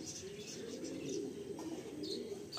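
Pecha Mukho Madrasi pigeons coo softly and repeatedly in a loft in West Bengal, the low murmuring calls faint and steady with a few light chirps mixed in.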